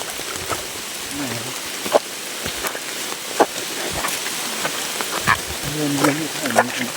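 Rain pours in a constant wash with scattered knocks and taps, while voices murmur faintly in the background.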